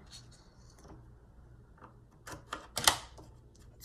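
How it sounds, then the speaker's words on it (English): Small scissors snip through paper or tape at a planner desk, a few quick crisp cuts clustered near the end, close and fairly quiet with no talking. "And then I use my little scissors"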